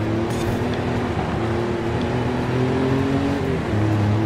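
A Ford F150 Raptor's engine drones steadily in Forza Horizon 5 on Xbox Series X. The low, sustained motor hum holds level throughout with slight pitch shifts and no talk.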